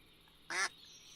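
A single short duck quack from the game Minecraft, clear and moderately loud over a faint background hum.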